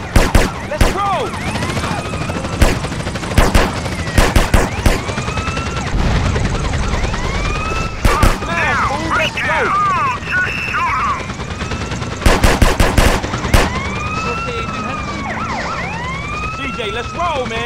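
Repeated bursts of gunfire ring out during a drive-by in GTA San Andreas from a Patriot car, over loud wailing police sirens. The sharp shots come in clusters, and voices shout between them.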